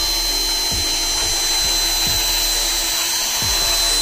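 An izom 20V cordless drill boring a hole with torque turned down, a continuous loud whirring motor drone with periodic dips and catches as the bit slows in the material, no voices.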